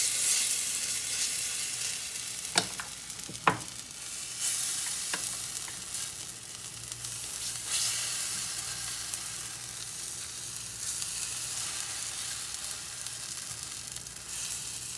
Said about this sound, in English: The ghee and the pan are heated up, so I'm going to add my batter to make the cheela.